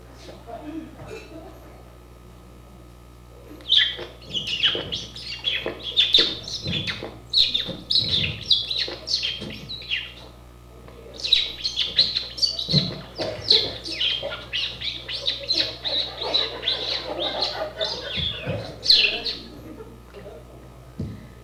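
A comedian on stage vocally imitates a lovebird with repeated high, rapid chirps and tweets in two long bursts, loud and close over a faint room hum.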